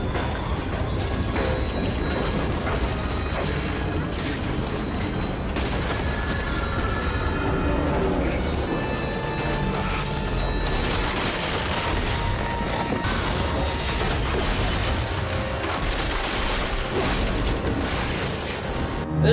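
Earthquake scene from the movie 10.5 with the Space Needle collapsing: a loud, sustained roar of rumbling, grinding and crashing debris that keeps up dense and heavy throughout.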